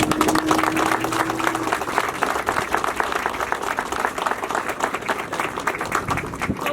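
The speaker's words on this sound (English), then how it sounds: "please give your mom a big round of applause" An audience at a community event honouring a county law founder claps together in a steady, lively round of applause, holding at an even level before tapering toward the end.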